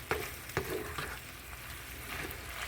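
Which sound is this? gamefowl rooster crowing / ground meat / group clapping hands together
ground meat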